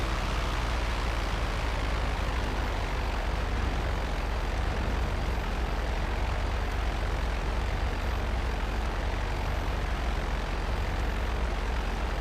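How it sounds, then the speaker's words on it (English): A regular propeller airplane in GTA Online, its engine droning loud and unbroken as a steady, dense roar with no talk over it. "It's just a regular plane."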